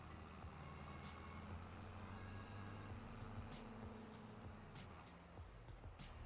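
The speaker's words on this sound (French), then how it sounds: "le Renault là, les freins ils sont trop secs" A Renault tractor or truck in a farming simulation game, its engine rumbling steadily at low volume with a few short hissing air brake releases, no talk.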